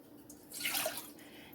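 Water poured out to measure 1.5 cups for a cinnamon tea, a brief close splash and trickle that swells and then fades within about a second.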